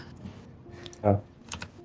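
Computer keyboard typing, a few quick key clicks with one denser burst of strokes near the middle, faint and close, with low background murmur.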